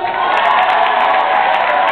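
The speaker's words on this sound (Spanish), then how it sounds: "¡Un aplauso!" A crowd at a salsa concert in Lyon applauds and cheers in a dense, continuous wash of clapping with scattered whoops, loud and sustained over the whole moment.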